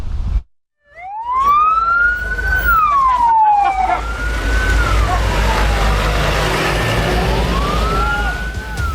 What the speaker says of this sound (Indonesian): Raungan sirine mobil pemadam kebakaran dari tim Posko Gabungan Karhutla Kabupaten Kotim hilir mudik menuju lokasi kebakaran